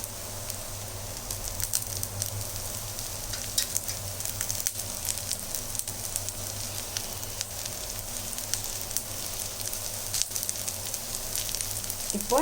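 Egg masala dosa frying in oil on a pan, a steady close sizzle and crackle of hot oil running throughout with faint scraping.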